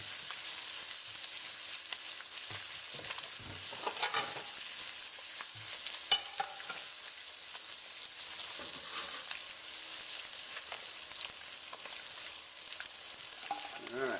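Trout frying in oil and butter for trout amandine, a steady, close hiss and sizzle throughout, with occasional stirring and scraping sounds on top.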